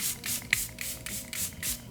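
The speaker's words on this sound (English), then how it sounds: "I'm gonna spray my face because I look like a ghost right now" A face setting spray is misted in several short hissing bursts at a steady rhythm, heard close up with no talking.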